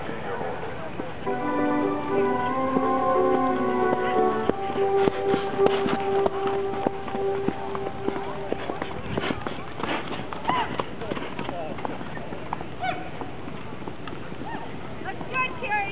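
Horses trotting in a show ring during a junior horse pleasure class, with steady clip-clop hoofbeats running under a loud announcer's voice and some music-like tones early on.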